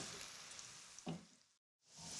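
Fish kebabs sizzle in a frying pan, a soft steady crackle of hot oil with a brief louder spit, before cutting out to silence and returning.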